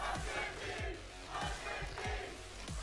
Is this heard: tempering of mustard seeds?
no